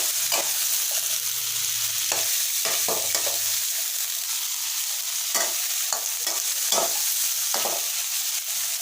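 Pork stir-fried in a wok until cooked for a Thai sweet-and-sour dish, giving a loud, steady sizzle with sharp scraping strokes of a spatula scattered throughout and a brief low hum near the start.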